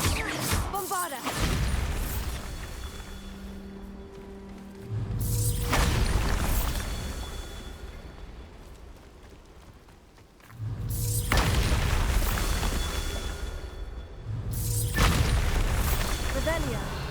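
Repeated explosive blasts from the Bombarda spell in Hogwarts Legacy, each a loud booming burst with a long rumbling tail, arriving at intervals of several seconds over game ambience.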